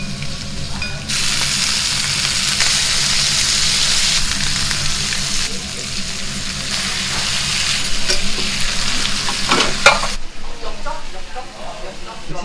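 Beef intestines (gopchang) are pre-grilled in a Seoul gopchang restaurant with a loud, continuous crackling sizzle and a busy kitchen clatter, briefly easing near the end.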